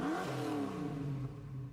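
V8 car engine in a Gran Turismo 7 racing game, 5.8-litre, revving with a steady rising drone and then easing off, fairly faint and heard with no talking.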